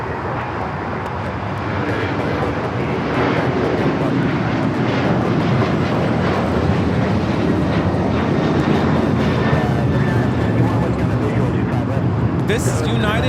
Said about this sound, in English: This is United Airlines 2458 taking off to Houston Intercontinental on the 737-900ER.